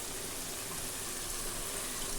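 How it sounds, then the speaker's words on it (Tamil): Water is poured into a pot of curry cooking in oil, a steady soft rushing splash that continues evenly throughout, fairly quiet and alone. "நம்ம தேவையான அளவு தண்ணி ஊற்றிக்கலாம்"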